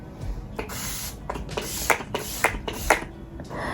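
Short hissing bursts of setting spray are misted onto a freshly made-up face, about half a dozen quick pumps in an uneven rhythm, close and crisp.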